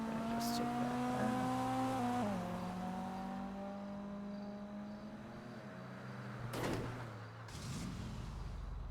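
A car engine in GTA V hums at a steady pitch, drops a notch when it shifts, with a couple of brief whooshing bursts later on, fairly quiet overall.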